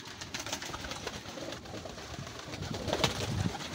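Racing pigeons, just back from a race, coo softly at feeding time in their loft. Low murmuring coos overlap with light rustling and scattered wing and foot sounds, close and steady throughout.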